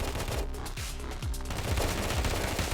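Rapid gunfire in a mobile shooter, with an S-T3C AWD2016 gun in play: a loud, continuous automatic stream of close shots with a fast, steady rhythm and no talking.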